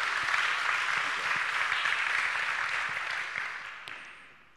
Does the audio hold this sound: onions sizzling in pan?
no